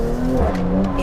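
Mercedes C43 AMG with four-wheel drive accelerating hard on steering lock, a loud, close engine roar with a rising tone through a brief burst, softened by stability control.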